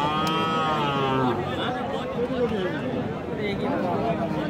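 Cattle at the Raniganj livestock market lowing, a long drawn-out moo and further bellows from nearby cows amid market noise, with people talking over them.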